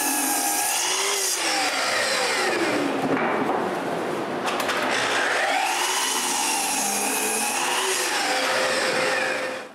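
A power saw cuts wooden blocks, its whine rising and falling in pitch through several passes, loud and close with no talk.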